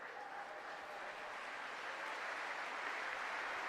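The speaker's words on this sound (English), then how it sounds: "a big round of applause by every single person at the National Football Stadium here this afternoon" At the National Football Stadium during a junior cup final, a crowd applauds an injured player as he is helped off the pitch. The applause is a steady, dense wash from far away that swells slightly as it goes on.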